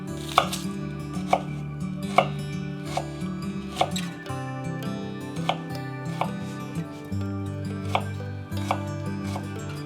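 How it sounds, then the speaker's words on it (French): A knife chops a shallot finely on a board with rapid, crisp, evenly spaced taps over about ten seconds, close and clear, while a soft low hum runs underneath. "Pour l'échalote, coupée en tout petit."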